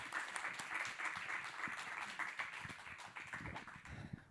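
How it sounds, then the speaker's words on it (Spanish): An audience applauding, a dense patter of many hands clapping steadily, fairly faint and distant. "a los dos les damos un fuerte aplauso y les agradecemos la presencia"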